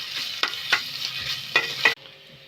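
Ginger garlic paste fries in a pan with a soft continuous sizzle broken by four sharp scraping stirs, then cuts off abruptly near the end.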